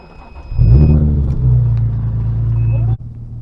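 Modified Nissan 350Z engine revving up as the car pulls away, a deep throaty rumble swelling loudly then holding a steady drone before cutting back, heard close from inside the car.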